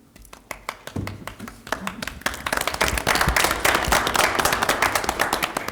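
Applause at a school board of education meeting, starting with a few scattered claps and building into denser, nearby clapping from a modest audience, with some speech mixed in.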